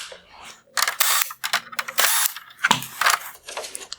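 Phillips head screws being backed out of a disassembled Kia Sorento halogen headlight housing, with a quick series of close, bright ratcheting clicks and scraping screwdriver turns, fairly loud and without talk.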